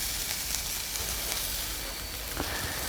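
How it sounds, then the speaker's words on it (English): Filet mignon sears in a hot skillet with a steady, close sizzle and hiss of frying and a few faint pops, with no talking. "Here's the sear on that steak."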